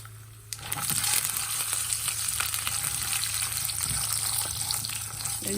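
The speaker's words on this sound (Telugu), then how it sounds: "మనం తీసుకున్నటువంటి దొండకాయలు కట్ చేసుకొని దీనిలో వేసేసేయాలి కూడా" Cut ivy gourds sizzle and fry steadily in a pan with coconut, a loud continuous crackle and hiss throughout, with faint stirring, no talking.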